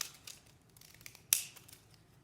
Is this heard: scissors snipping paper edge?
yes